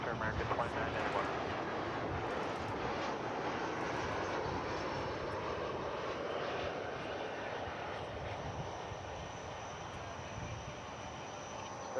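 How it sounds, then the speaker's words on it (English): An American Airlines airliner landing at Dallas Fort Worth Airport, arriving from Puerto Vallarta, Mexico, gives a loud broadband engine roar that fades slowly over the whole stretch. "As an American Airlines flight lands from Puerto Vallarta, Mexico."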